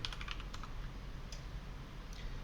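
Clicks of a computer keyboard, with a quick cluster of keystrokes at the start and a few scattered single taps after, faint over a low steady hum.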